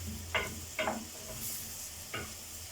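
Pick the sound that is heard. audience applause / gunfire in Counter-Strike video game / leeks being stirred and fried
leeks being stirred and fried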